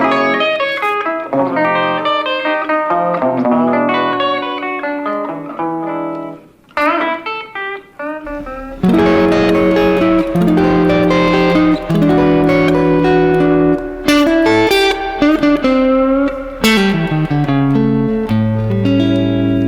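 An electric guitar strums a rhythmic run of rich, jazzy dominant ninth blues chords, loud and up close, pausing briefly before a fuller, driving passage continues.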